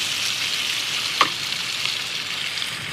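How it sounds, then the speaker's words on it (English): A steady, loud sizzle of fish frying in a hot pan over high heat, with a brief clink partway through. "You hear that nice sizzle."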